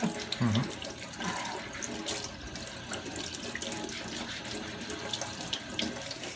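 Vegetables fresh from the dirt are washed under a running tap in a kitchen sink: a steady, close rush of splashing water continues throughout, with faint handling sounds and a voice speaking briefly.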